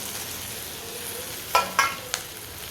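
Chopped okra frying with onion and tomato in a pan, a constant soft sizzle broken by a few sharp clinks and scrapes as it is added and stirred.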